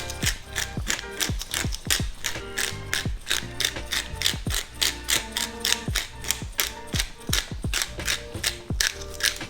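A pepper grinder set to its coarsest grind cracks black pepper in a steady rapid series of loud, close ratcheting clicks that runs throughout without a break.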